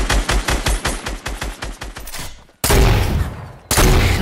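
A rapid burst of video game gunfire hammers at a partially broken wall, followed by two heavy, crashing impacts that sound like the wall giving way.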